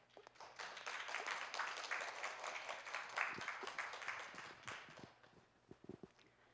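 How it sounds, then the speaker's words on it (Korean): A forum audience at a public-works awards ceremony applauds to welcome a speaker, a soft, distant wash of clapping that swells, holds for several seconds, then fades into a few scattered taps. "큰 박수로 맞이해 주시기 바랍니다."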